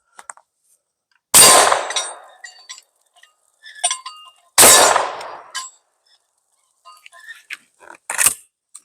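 12 gauge over-under shotgun firing birdshot, two loud sharp blasts a few seconds apart with ringing tails, followed by a third fainter crack, with light clicks and handling noises between shots.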